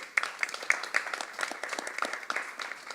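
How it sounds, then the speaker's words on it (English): Short burst of audience applause at a parliamentary reform commission event, a few distinct close claps over a thinner scattered patter, fairly quiet and tapering off. "I want you all to give the commission a big round of applause for engaging young people"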